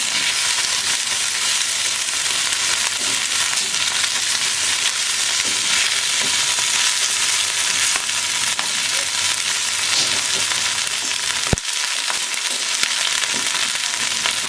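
Chicken pieces sizzle and fry steadily in a hot pan, with occasional scrapes and clicks of stirring over a constant, loud frying hiss and no talking.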